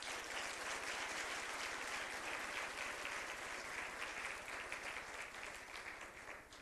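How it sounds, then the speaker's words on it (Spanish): A large audience applauds steadily at a broadcasters' week event, a dense, even wash of many hands clapping that holds for several seconds at moderate distance, fading slightly toward the end. "que le cuenten un gran aplauso"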